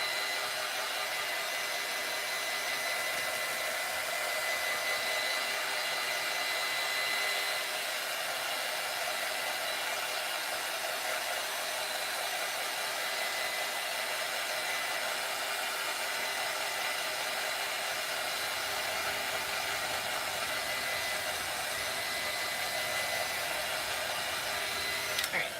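A hair dryer blows continuously at close range to dry paint on a tumbler cup, a loud, even whooshing roar lasting the whole time with no talk.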